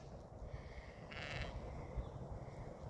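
A single Katahdin sheep bleat rises briefly in the middle of a steady outdoor background hiss, fairly distant and soft.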